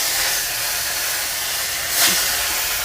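Pieces of chital fish hit hot oil in a pan, giving a steady, bright sizzling hiss that fills the whole moment, with a brief louder spit near the end.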